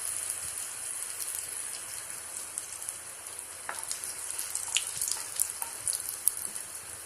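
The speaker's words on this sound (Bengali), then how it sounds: "মাছ ভাজার তেলেই আমরা কতগুলো লঙ্কা ফোড়নে দিয়ে দিলাম।" Chillies tempered in hot oil left over from frying fish for a spicy fish and potato curry give a steady, close sizzling hiss, with scattered sharp pops and crackles and no talk.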